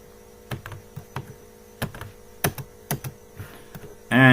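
Keys clack on a computer keyboard as C++ code is entered, in irregular bursts of close taps over a steady mains hum, ending with a louder sudden noise.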